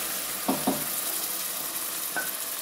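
Hot boiled chana dal poured with its water into a pan of frying paste gives a soft, steady sizzle, with a couple of brief clinks or splashes near the start and one more later.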